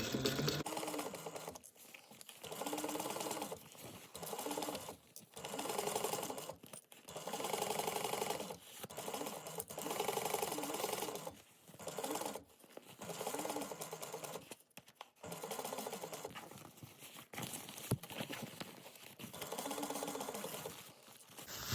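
A sewing machine stitches a seam on a Mini E bag in repeated bursts of rapid mechanical whirring and clatter, broken by short pauses, close and steady with no talking.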